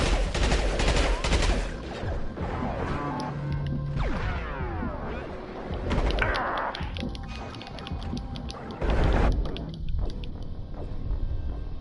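Gunfire in the Mass Effect 2 video game, rapid overlapping bursts of weapon fire with whooshing effects and impacts, loud and continuous throughout.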